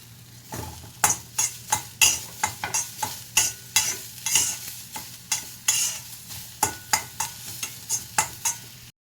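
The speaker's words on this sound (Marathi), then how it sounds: "हे चांगलं भाजून घ्यायचं आहे टमॅटो मऊ झाल्यानंतर भाजल्यानंतर त्यात कोथिंबीर घालायची आहे" Tomatoes and coriander are stirred and fried in a pan for green pea chutney, with a steady sizzle beneath a regular rhythm of roughly fifteen spoon-against-pan scrapes, close and moderately loud, with no talking.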